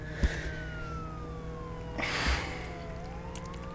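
A faint police siren in the video game Roblox Jailbreak wails with a slow falling then rising pitch, thin and distant, while soft breaths and small clicks sit over a quiet hum.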